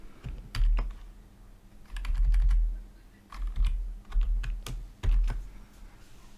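Computer keyboard being typed on while writing code, with close irregular key clicks coming in quick clusters separated by brief pauses.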